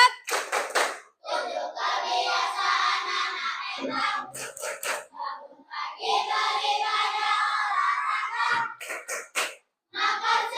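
Children in a classroom clap out a rhythmic chant together, with bursts of sharp synchronized hand claps between stretches of group voices. The claps and chanting are close and loud, in repeated phrases.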